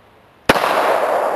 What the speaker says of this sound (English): He's going to shoot it with his Kimber Custom 2 1911 45.